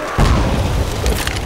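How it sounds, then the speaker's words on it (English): A grenade goes off in Left 4 Dead 2 during a Blood Harvest versus round, a loud deep boom that holds as a sustained rumbling roar for the whole moment. "Fire in the hole! Grenade!"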